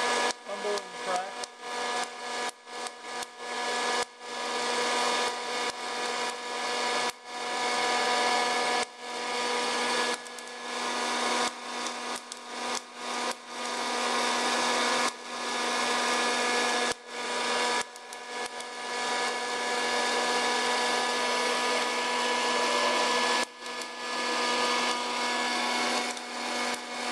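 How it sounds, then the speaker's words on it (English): Coffee beans roast in a motorized drum roaster, tumbling in a continuous loud rush with a steady mechanical hum, broken by frequent sharp dry cracks and pops throughout. "Just let them roast, let them tumble and crack."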